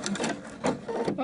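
A sewing machine runs in a short, steady burst, stitching a reinforcement across a button placket, close and fairly quiet with a brief pause near the end.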